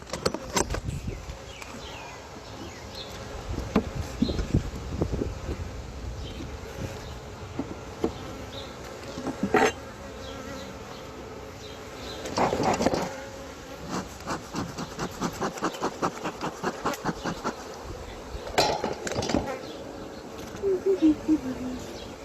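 Honeybees buzz steadily around an open hive frame holding capped brood, a close continuous drone with brief louder swells as bees fly past, plus faint rubbing of wooden frames and occasional quiet talk.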